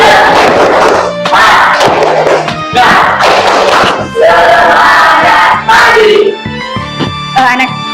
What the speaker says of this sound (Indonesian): Tepuk semangat bersama-sama.